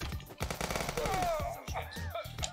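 Rapid bursts of gunfire in a police video game, Police Stories, sharp repeated shots over in-game noise, with short vocal sounds mixed in.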